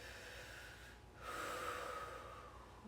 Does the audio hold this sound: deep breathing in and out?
yes